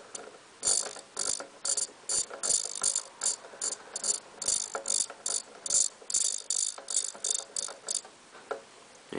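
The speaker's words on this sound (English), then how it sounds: "So if we change the position of the servo, it should lift it." A servo whirs and clicks as it lifts the pickup reel on a John Deere 990 baler, a rapid run of sharp, close mechanical ticks and ratcheting bursts in an uneven rhythm, with no talking.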